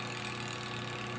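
A spin dryer's spin motor runs steadily after starting up, giving a continuous mid-pitched motor hum with a faint rattle, close and alone with no talking.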